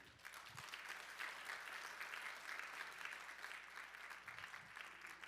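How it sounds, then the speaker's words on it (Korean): Faint, steady applause fills a hotel ballroom at a Rotary district conference. The dense clapping holds evenly for several seconds, with some low rumble beneath it. "여러분 큰 박수 한번 부탁드리겠습니다"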